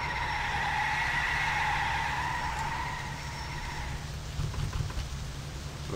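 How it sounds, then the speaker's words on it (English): Rain falls in My Summer Car as a car drives uphill. The rain is a steady hiss, layered over the droning hum of the engine. "it's raining."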